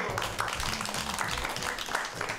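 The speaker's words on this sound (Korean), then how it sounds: "박수!" Applause from a crowd at a village community event in Hallim-eup, Jeju, greeting a contest between uncles; dense continuous clapping throughout, with voices mixed in.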